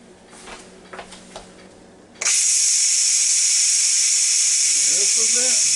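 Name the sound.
Ninja Foodi pressure cooker venting steam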